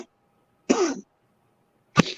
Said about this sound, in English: over here coughing up a lung